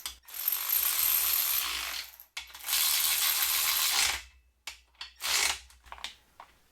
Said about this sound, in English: these get torqued as per the service manual to 60 to 70 foot-pounds